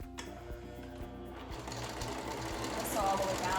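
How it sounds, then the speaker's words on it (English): A sewing machine stitches a fabric face mask with a fast steady mechanical clatter close by, while a voice talks over it. "we're gonna go ahead and sew this long ways"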